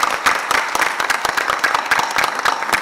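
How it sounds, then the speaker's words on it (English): Scattered applause from an audience at a school board of education meeting, distinct individual claps forming a loose, uneven patter that continues steadily throughout at moderate volume. "but we can still give him a round of applause."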